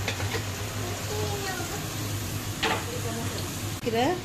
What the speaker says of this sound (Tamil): பச்சை மிளகாய், வெங்காயம், கருவேப்பிலை எல்லாம் ஃப்ரை பண்ணிக்கலாம்